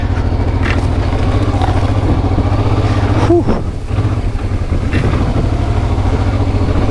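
Motorcycle fitted with a car tire churning through deep sand, its engine droning steadily and loud throughout, with a brief dip midway and a short exhaled voice near the start.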